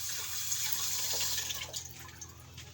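Tap water runs steadily into a sink while fish and a chopping board are rinsed, a soft continuous splashing close by with a few small drips and knocks.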